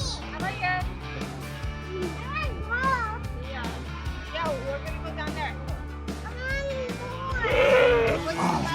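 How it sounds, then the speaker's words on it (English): Goats bleating at a farm on O'ahu, several wavering calls overlapping, close and clear, mixed with children's voices and chatter throughout. "A lot of goats."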